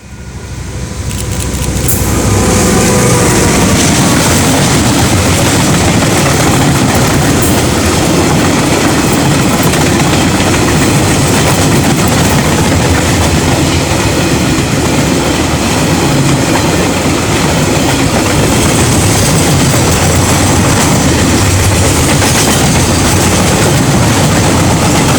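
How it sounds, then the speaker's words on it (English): KiwiRail diesel locomotive DL 9452 passes at Rangiuru hauling train C74, a loud continuous rumble and rail clatter that swells in quickly and holds steady for over twenty seconds. "I stopped in Rangiuru to get DL 9452 passing by with train C74 from KiwiRail"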